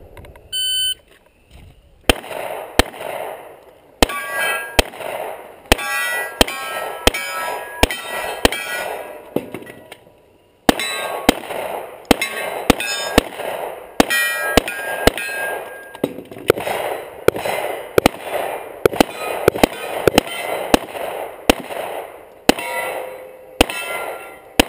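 Rapid gunshots at an action shooting match ring out with sharp cracks, each followed by metallic clangs and pings of bullets striking steel targets, coming in quick irregular strings with a brief pause midway.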